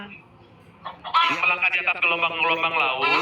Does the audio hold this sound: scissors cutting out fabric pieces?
no